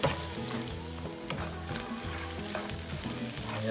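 Onions sizzle and fry steadily in a pan with black pepper added, a dense continuous crackle over a low background hum, close and moderately loud throughout.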